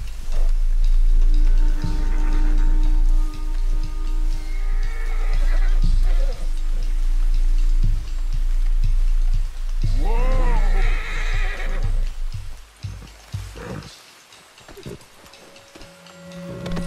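Arabian horse in Red Dead Redemption 2, a loud rising-and-falling whinny over a steady run of clopping hoofbeats, with ticking game sounds and a brief quieter stretch near the end.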